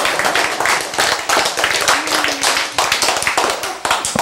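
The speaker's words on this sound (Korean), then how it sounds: "박수!" A small group claps during a talk, a close and fairly loud burst of rhythmic, sharp hand claps that continues steadily, with a brief voice underneath.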